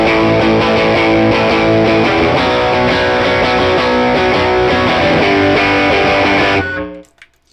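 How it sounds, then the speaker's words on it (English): Electric guitar played through an overdrive/distortion pedal with all controls at noon, thick sustained distorted chords ringing loud and alone, then cut off abruptly near the end into silence. "we're going to play this overdrive / distortion with everything"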